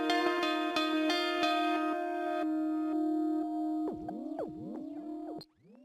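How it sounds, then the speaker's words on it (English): A synth or guitar tone sounds through an elaborate tape delay in Logic Pro, switched into reverse. Repeated plucked notes ring with layered echoes, then give way to swooping, pitch-bending reversed repeats that rise and fall before fading out. "an elaborate tape delay that you can switch into reverse."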